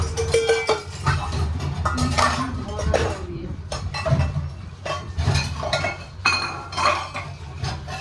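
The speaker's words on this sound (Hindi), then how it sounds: "अब मुझे बर्तन साफ़ करने हैं।" Dishes, pots and utensils being washed in a home kitchen, with repeated clinks and clatters of metal and glass over running background noise, close by.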